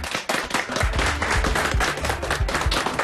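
A small group claps in quick, uneven bursts, close and fairly loud, with a few voices faintly underneath.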